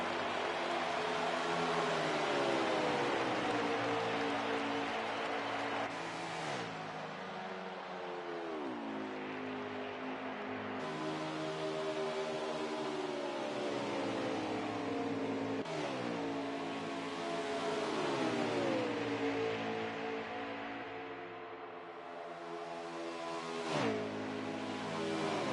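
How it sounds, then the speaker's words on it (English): Race car engines roar continuously in a sim racing video game at Las Vegas, several cars passing with rising and falling revs and gear-shift pitch sweeps, loud and sustained with no talking. "What a beautiful sound these engines make going around"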